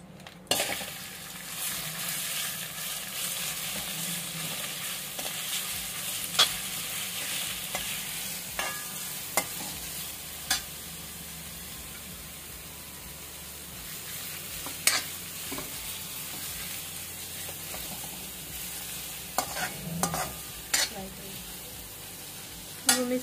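Grated bottle gourd frying in ghee in a pan for kheer, a steady soft sizzle with repeated scraping stirs and occasional spoon clinks against the pan, moderately close and continuous throughout.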